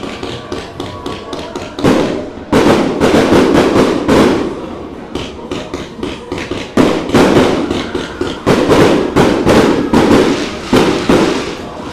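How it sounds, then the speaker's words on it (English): Fireworks bang in quick, dense bursts throughout, celebrating the 2026 champions at a women's senior league football match in Anguilla; the bangs come loud and crowded, some clustered tightly, with short lulls between volleys. "that's the fireworks going off in the background"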